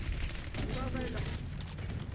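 Gunfire in the Black Ops 6 multiplayer match on the Nuketown map, a dense mix of shots and crackle running steadily through the whole stretch under a busy battle soundscape.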